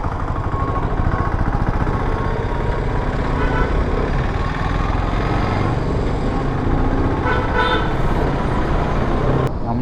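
Heavy road traffic in Coimbatore during a Chithirai temple festival, a dense rumble of engines heard from a motorbike, with occasional horn toots and faint voices mixed in.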